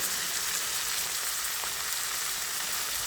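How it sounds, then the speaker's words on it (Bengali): Fish frying in mustard oil, a steady dense sizzle and crackle of hot oil filling the whole stretch at an even level, close and continuous with no voices. "মাছটা আমি সুন্দর করে ভেজে নেব তেলটা কিন্তু সরিষার তেল"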